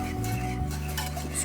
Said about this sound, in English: I'll keep it on the move just to mix it all up.